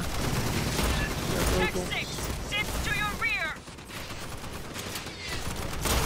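Electric rounds firing in the sci-fi shooter Aliens: Fireteam Elite, a dense, continuous burst of gunfire with chirping energy tones, heard loud and close across the whole stretch amid other game effects.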